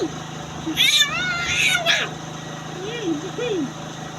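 A person imitates a cat with a few high, wavering meow sounds near the start, followed by softer, lower meow-like calls, over a steady low background hum.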